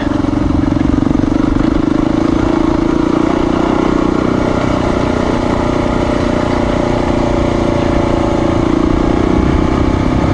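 A motorcycle engine idles steadily at close range for the whole stretch, a constant low rumble with no revving, while the bike rolls down hard-packed gravel on Corbin Creek Road in the North Georgia mountains.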